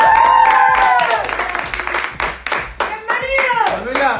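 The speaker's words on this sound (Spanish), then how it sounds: "Fuerte el aplauso, por favor." Studio audience applause on an Argentine TV show set, a dense burst of clapping with cheering and whooping voices mixed in, loud and continuous throughout with a host's voice calling over it.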